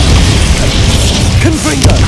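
A Bombarda spell blast in the video game Hogwarts Legacy lands as a loud, dense booming crash that fills the whole moment, with rumbling low end and a few brief mechanical rattles near the end.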